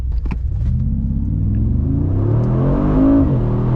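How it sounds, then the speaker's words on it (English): Mercedes-Benz G63 AMG 2022 accelerating hard, a deep engine rumble climbing steadily in pitch through the gears, loud and close from inside the vehicle, with a few clicks at the start. "Let me check if we can accelerate without holding the steering wheel."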